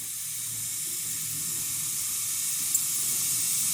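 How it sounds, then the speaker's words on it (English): Steady broadband hiss from the steam wand of a serviced Breville espresso machine, with the pump humming low underneath, continuous and close with no talk. "So you can see it's able to produce steam as well."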